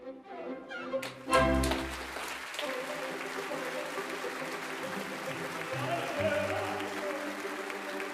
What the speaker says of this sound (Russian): Просто хлопай в ладоши.